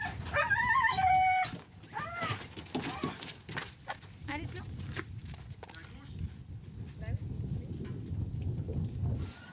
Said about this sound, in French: on va sortir tous les chiens un à un et on va aller les atteler aux cartes